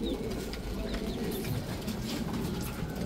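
Racing pigeons back at the home loft coo softly in low repeated phrases, with faint chirps and light rustling around them.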